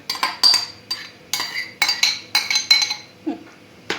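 A utensil scrapes and clinks against a bowl while food is stirred, producing a quick, regular series of near, bright taps and scrapes.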